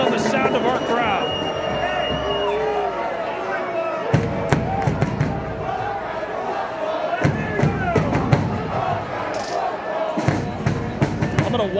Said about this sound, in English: I'll let you draw your own conclusion based on the sound of our crowd.